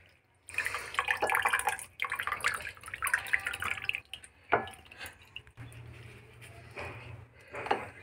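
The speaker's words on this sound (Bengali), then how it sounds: "এবারে ছেঁকে নিচ্ছি পালং শাকটাকে" Spinach strained after boiling, with water pouring and splashing through in close bursts, then trickling and dripping, moderately loud with short pauses between pours, no voices.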